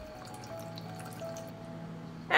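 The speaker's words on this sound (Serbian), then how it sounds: "stavit ću ovaj poklopac sa rupicama da mogu lakše da iscedim vodu, zavrnut ću na teglu i sipati u šerpu" Water drains from a glass jar through a perforated lid into a cooking pot: a faint, steady trickle, then a louder splash near the end.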